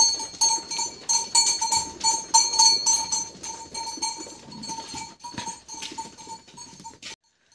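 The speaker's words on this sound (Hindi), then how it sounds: "देख सकते हो मेरी बकरी हल्ला कर रहा है" A goat bleats repeatedly on the way to the forest in a rural Indian farming area. The calls are close and come in irregular bursts over a steady metallic jingle of bells.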